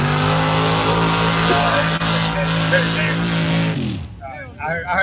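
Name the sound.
truck engine revving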